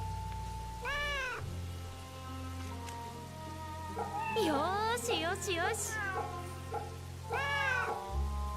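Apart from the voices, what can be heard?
cat meowing while being petted in Fate/Samurai Revenant video game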